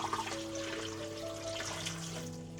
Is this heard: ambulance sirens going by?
no